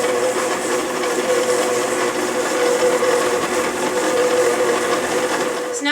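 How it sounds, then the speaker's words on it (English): Electric mixer whirring steadily as it blends an Italian meatball mixture, a continuous motor drone with a faint high whine, close and alone with no talking. "Fix on the mixer"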